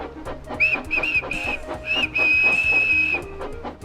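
A steam locomotive whistle sounds in a few short toots and then one longer blast, loud and close over the rhythmic chuff of the engine.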